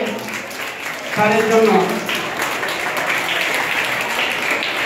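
An audience applauds at a farewell felicitation for a retiring teacher at Suren Banerjee High School, with steady clapping running throughout and a voice speaking over it.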